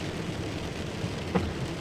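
Heavy rain pouring in Riyadh, Saudi Arabia, a steady hiss with a low rumbling undertone and one brief louder splash or patter near the end, no voices.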